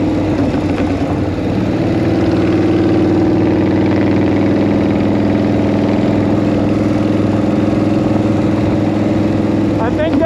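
A 1940 flathead engine idles steadily and loudly close by, a smooth continuous rumble with a low throbbing hum and no backfires or popping, with someone talking over it.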